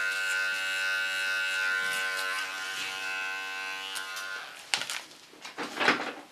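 Electric hair clippers set to the combing position buzz steadily with a bright, sustained hum, then give way to short scraping, rustling bursts near the end.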